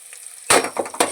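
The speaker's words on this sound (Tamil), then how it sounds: "எண்ணெய் விட்டு கடுகு போட்டுட்டு அதில் பூண்டு, பச்சை மிளகா, வெங்காயம் போட்டு நல்லா வதக்கணும்." Mustard seeds, garlic, green chili and onion sautéing in hot oil, a sudden loud sizzle burst followed by crackling spatters and a second flare.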